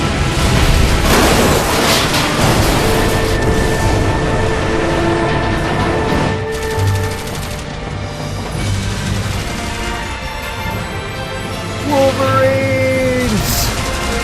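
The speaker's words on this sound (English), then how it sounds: "Explosions, rocket launches." Explosions and rocket launches in the video game Final Fantasy XIII, a loud stream of booms, bursts and crashes with a rising whoosh near the end.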